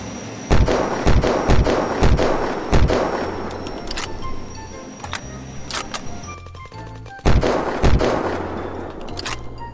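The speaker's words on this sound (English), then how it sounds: "Why is that guy shooting?" Gunfire in the survival game Unturned: sharp, loud shots arrive in quick clusters of three or four, with single cracks and quieter gaps between bursts over a low background rumble.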